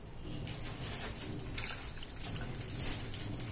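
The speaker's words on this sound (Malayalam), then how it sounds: "ആവശ്യത്തിന് വെള്ളം ഒഴിച്ച് കൊടുക്കാം" Water poured into a clay pot (manchatti) holding cucumber and slit green chillies for a Kerala cucumber curd curry, a steady splashing pour that runs for the whole moment, fairly close and alone.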